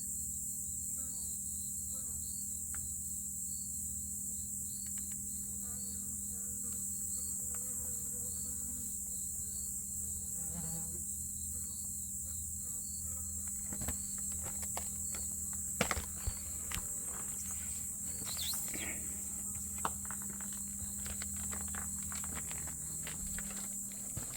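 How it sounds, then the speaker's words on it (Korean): Honeybees hum steadily at a hive entrance on a mountainside, a continuous insect drone with occasional light knocks and rustles close by. "벌들은 다 잘 있습니다."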